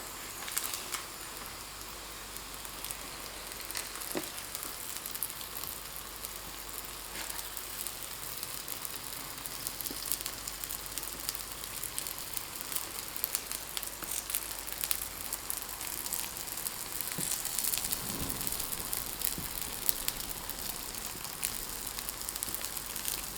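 A stuffed, thin-skinned flatbread made from flour and water pan-fries over medium heat while its underside browns, giving a soft, continuous sizzling hiss that stays faint and even throughout, with no voices.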